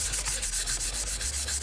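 A plastic Digimon Accel shell is wet sanded by hand in quick, even back-and-forth strokes, a close, continuous rhythmic rasping with no talking.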